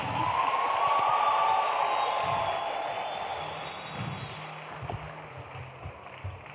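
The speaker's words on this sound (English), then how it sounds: "Can we give a big round of applause to our panelists, please?" An audience at a youth empowerment week event applauds the panelists: a dense wash of clapping and crowd noise, loudest at the start and slowly thinning, with scattered voices and a few knocks underneath.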